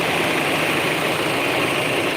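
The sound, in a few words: car engine idling with funny noise and shaking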